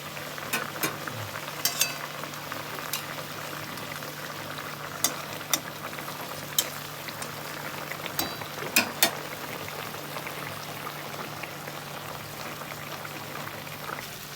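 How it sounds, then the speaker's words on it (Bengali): Catla fish frying and simmering in dopiaza sauce in a pan, a faint steady sizzle broken by scattered sharp pops and spatters, close but quiet, with no talking. "আমি ভালোভাবে মাছটা দিয়ে একটু কষিয়ে নামিয়ে ফেলব।"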